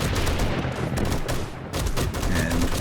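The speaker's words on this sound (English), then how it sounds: "We've only got the ones firing as they hit the tripwires." Dart traps firing in 7 Days to Die as zombies trip the wires, a dense rapid rattle of repeated sharp shots that stays loud and continuous, with faint speech underneath.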